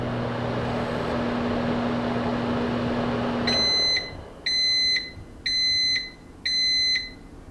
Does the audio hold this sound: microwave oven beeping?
yes